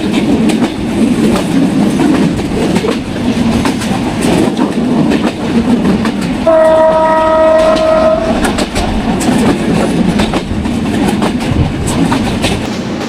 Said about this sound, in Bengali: এই মুহূর্তে সাগরদাড়ি এক্সপ্রেস ট্রেনের গতি 80 কিলোমিটার।